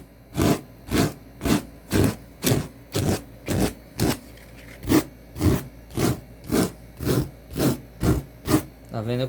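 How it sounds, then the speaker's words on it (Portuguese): Steady back-and-forth rasping of sandpaper on an MDF edge, sanded by hand, about twenty even strokes in a regular rhythm, close and fairly loud. "Isso é comum quando a gente lixa o MDF."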